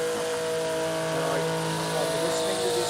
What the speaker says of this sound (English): Tara Johnston burning out in the Supra